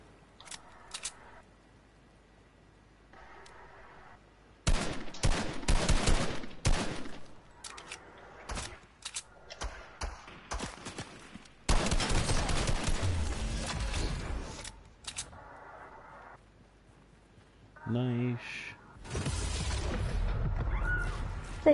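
Gunfire in the online shooter Fortnite, with bursts of rapid shots arriving in several loud clusters separated by quieter stretches of game sound, and a few sharp single reports near the end.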